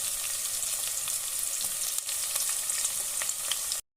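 Chopped onions and green chillies sizzle steadily in oil with whole cumin, a close, continuous frying hiss with faint stirring, no voices, cutting off abruptly at the end.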